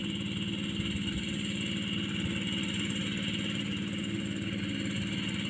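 A small walk-behind tractor engine runs steadily at a constant idle-like chug, close and even throughout, with no voices.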